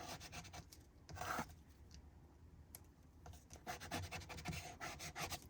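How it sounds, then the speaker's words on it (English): Quiet, close rubbing and scratching as a tool burnishes a 4-square index background, in short irregular strokes with slight pauses between passes. "Then we can turn it and go ahead and burnish it."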